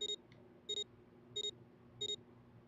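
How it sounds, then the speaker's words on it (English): Soft electronic palm-scanner authentication tones at a door in the game 999, four evenly spaced double beeps, each a pair of short bright pulses, over a quiet low hum. "With a soft electronic noise, it authenticated each one of them."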